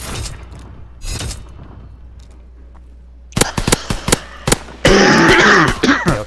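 A man with a lingering cold coughs in a harsh, wheezy burst of several sharp hacks after quieter gameplay noise, loud and close to the microphone.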